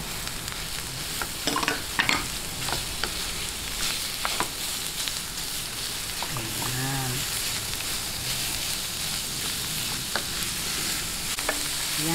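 Ground meat frying in a pan for chili cheese lumpia, a constant bright sizzle with scraping stirs and spatula knocks now and then, while someone speaks briefly over the cooking.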